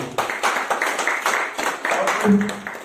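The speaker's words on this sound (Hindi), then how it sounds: "एक बार जोरदार तालियां उनके लिए" A room of seminar attendees breaks into loud applause, a dense burst of clapping that rises and falls in quick waves, with some voices mixed in.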